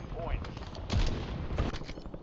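Gunfire from a Call of Duty Warzone match, including sniper fire, cracks in a few sharp reports mixed into game audio, with people talking over it.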